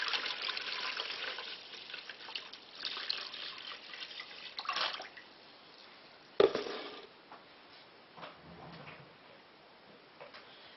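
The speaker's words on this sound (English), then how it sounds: "Give that a little stir about." Water with vinegar and salt swirled in a bowl while preparing a Christmas pudding cloth, soft sloshing and trickling, faint and close, with a sharp knock midway.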